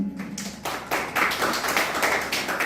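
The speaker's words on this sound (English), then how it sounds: "Let's have a round of applause to energize the evening." Audience at a book launch event claps, sharp individual hand claps at first quickly building into dense, close, loud applause that holds to the end.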